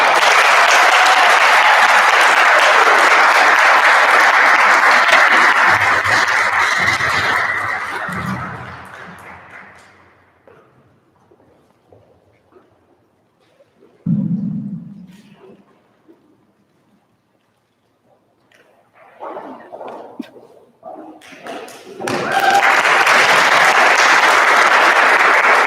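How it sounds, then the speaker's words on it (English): A community college audience applauds loudly with dense, sustained clapping that fades into near quiet, then a fresh burst of loud clapping rises again near the end. "Please give a round of applause for Admiral Vasquez Tapia"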